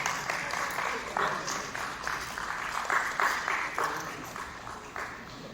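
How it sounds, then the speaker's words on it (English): An audience at a pageant sashing ceremony claps in a fairly quiet, distant wash of applause with some brighter bursts, heard through a room mix. "Let's give him a big round of applause"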